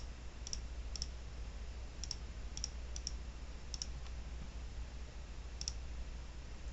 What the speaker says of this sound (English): I can click on the legend items over on the left to remove those from the chart.